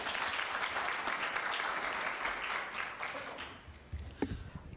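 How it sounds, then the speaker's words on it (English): Audience at a KCA University event applauding, a loud sustained crowd of clapping that thins out toward the end with a few scattered claps. "Let's give him a round of applause, please."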